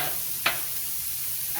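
Chorizo and beef smash burgers sizzle in a hot pan with a steady, close frying hiss, broken once by a brief sharp scrape as a patty is flipped.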